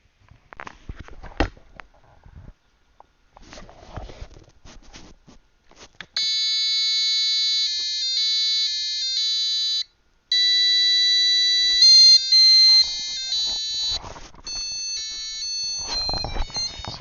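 A small piezo buzzer in a smart home sketch beeps out the Star Wars tune as a loud, thin electronic melody of clipped tones, starting after some faint handling noise and pausing briefly midway.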